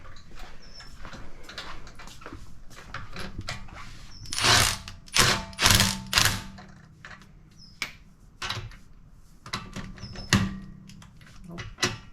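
A power tool snugs up car wheel lug nuts at reduced power, giving several loud, short mechanical bursts spaced out amid clicks and handling noise, with quiet voices nearby.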